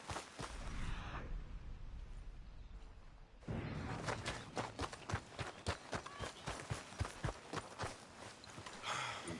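Horse hooves clip-clopping at a steady running pace in Red Dead Redemption 2, rhythmic and close, after a brief stretch of quieter movement.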